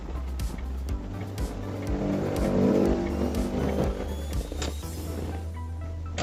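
A car is driven slowly along a narrow road while the driver practises judging its left and right sides and edging left; a steady, close engine hum runs throughout with light shifts in tone.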